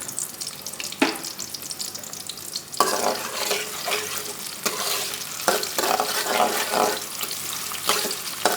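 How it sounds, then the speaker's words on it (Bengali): Chopped garlic and onion fry in hot oil until brown, with a continuous close sizzle and scraping stirs punctuated by a few sharp knocks of a spatula against the pan. "রসুন কুচি এবং পেঁয়াজ কুচি দিয়ে দিয়েছি, এখন আমি এগুলোকে বাদামি করে ভেজে নিচ্ছি।"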